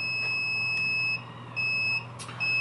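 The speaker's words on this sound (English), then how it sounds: "Now it's going to tell me that there's a low alarm." A micro greens sprouting incubator sounds its low alarm, a shrill, steady electronic tone that cuts out and returns in short bursts over a faint background hum, with no speech.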